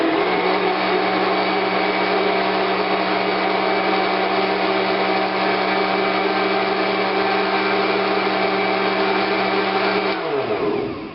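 A Panasonic blender on its cookie crumbs setting runs with a loud, steady motor drone for about ten seconds, then spins down and stops.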